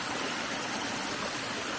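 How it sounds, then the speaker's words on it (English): A small trail waterfall running hard after heavy flow, a steady dense rush of falling water, close and loud, continuous with no voices. "we came across this little waterfall that usually has just like trickling of water, and man, it is flowing today"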